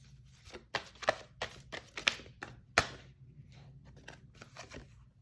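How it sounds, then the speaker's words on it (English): Someone shuffles a deck of cards by hand: a quiet, close series of sharp papery flicks and soft riffles at an irregular rhythm, with no talking. "definitely put it to the deck while I shuffle"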